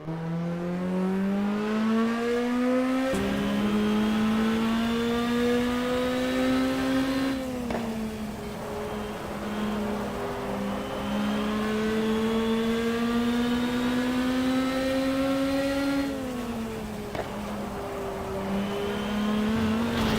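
A race car engine in the racing game GTR 2 drones loudly on a wet track, its pitch rising steadily through the gears with a couple of short dips at shifts, sustained for a long stretch.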